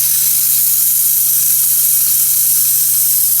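A nebulizer sprays a sample into the spray chamber of an AAS-4000 atomic absorption spectrometer, producing a steady, loud, unbroken hiss that stays even from start to finish.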